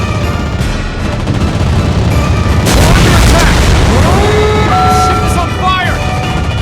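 Explosion as a ship is hit in the naval game World of Warships Blitz, a loud booming blast with a burst of noise amid continuous battle sounds and game voice alerts.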